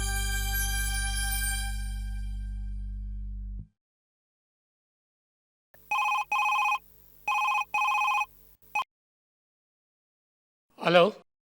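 A phone call ringing out on the line in a Hindi TV drama, after a loud musical sting fades: three paired electronic ring bursts, then a brief fourth, followed by a short sound.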